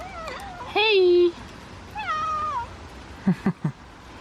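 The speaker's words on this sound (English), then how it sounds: "It's another cat by the toilet" A cat near a toilet in a rainy Japanese city meows loudly and close twice, rising then falling, followed by a few quick short chirpy sounds.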